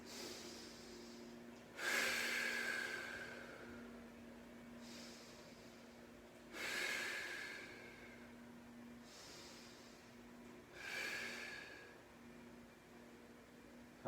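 Three slow, deep breaths come through the nose during a floor-based core mobility stretch, each a soft close inhale-exhale rush spaced several seconds apart over a faint steady hum.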